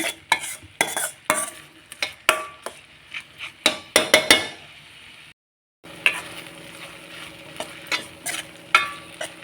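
Tomatoes with turmeric get stirred in a sizzling frying pan, with a spoon repeatedly scraping and knocking the pan in uneven strokes over a soft frying hiss, close up, with a brief silent gap midway and no talk.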